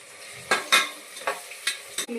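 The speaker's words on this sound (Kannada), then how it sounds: "ಸ್ವಲ್ಪ ಹೀಟ್ ಆಗಿದೆ, ಅದಕ್ಕೆ ಬಂದು ಆನಿಯನ್ ಹಾಕ್ಕೊತಾ ಇದ್ದೀನಿ" Onions and curry leaves hit a hot pan for pulao, sending out a few sharp sizzling bursts with scraping stirs in between, close and clear.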